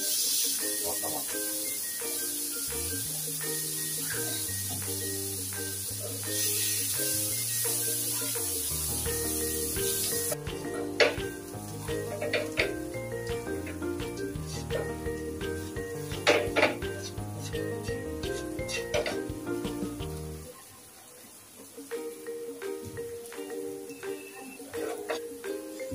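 Onion, green chilli and tomato sizzle in a pan for a street-food bread omelette, a steady frying hiss with scraping and clinks of a utensil against the pan, with music playing over it.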